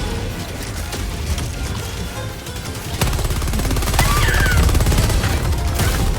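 Sustained automatic gunfire in Helldivers 2, a dense continuous barrage that grows heavier and louder halfway through, with a voice briefly audible beneath the roar of shots.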